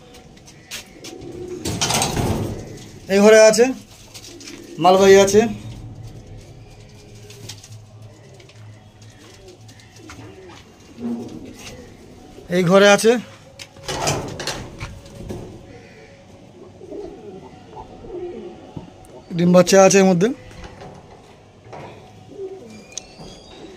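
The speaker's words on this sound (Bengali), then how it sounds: "দেখুন পায়রাগুলো দেখে নিন, সব A1 কোয়ালিটির পায়রা সব।" Pigeons in a loft coo in several loud bursts, close by, while someone talks between and over the calls and faint clatter sounds in the background.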